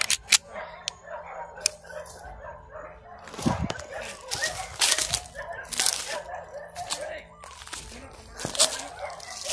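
Several dogs bark and yip in bursts at varying distances in an outdoor setting, with a voice talking between the barks.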